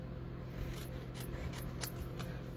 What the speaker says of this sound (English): This kite is really easy to cut out because of the straight edges.